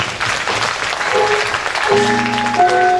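An audience claps loudly for gamelan players at a stage performance, steady clapping filling the space as sustained metallic gamelan tones rise underneath toward the end.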